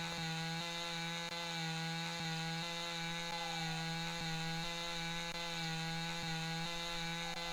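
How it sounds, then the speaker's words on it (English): Chainsaw in the logging game Lumberjack's Dynasty cutting through trees, a steady loud engine whine with rhythmic dips as the blade bites, running continuously with no talk. "Okay, what number was our chainsaw? F1. All right, let's start causing havoc."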